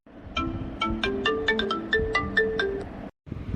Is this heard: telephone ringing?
yes